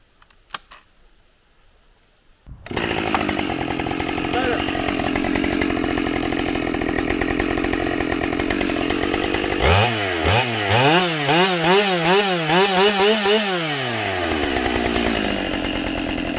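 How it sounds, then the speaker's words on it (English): A Husqvarna 572XP chainsaw, recently tuned, revs up after a quiet start and cuts through a wood cookie, a loud, close, sustained engine roar with the pitch wavering under load near the end. "I'm gonna try that to cut a cookie again and see what kind of speeds we get or how it sounds or how it feels."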